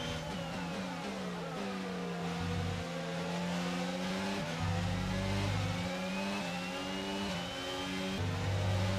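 F1 race car engine in the F1 22 video game, a loud continuous high-pitched whine that climbs through the revs, dips briefly at gear changes and climbs again, with no talking.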